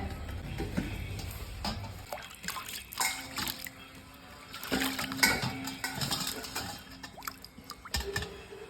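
A polished brass urli vessel being washed with water: running and splashing water alongside close metallic clanks and scrapes of the brass, continuous and busy throughout.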